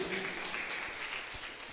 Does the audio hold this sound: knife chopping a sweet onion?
no